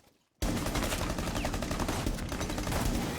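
Rapid automatic gunfire erupts suddenly in the video game Rainbow Six Siege, a loud close continuous burst of shots lasting about three seconds after a brief near-silence.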